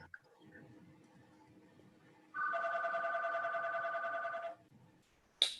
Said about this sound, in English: Was the phone ringing?